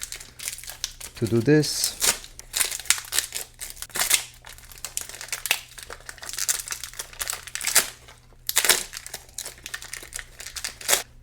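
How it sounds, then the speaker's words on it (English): Crinkling and tearing of a plastic HP printer ink package being opened up close, in repeated rustling bursts, while a person speaks briefly. "the first step is to open this package."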